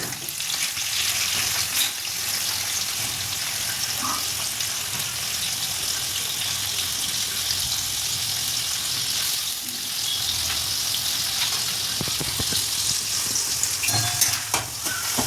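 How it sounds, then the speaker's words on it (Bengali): Chopped onions sizzle and fry steadily in hot oil for a mutton curry, a continuous loud crackling hiss with occasional stirring scrapes near the end and no talking. "পেঁয়াজটা লাল লাল করে ভেজে নেব।"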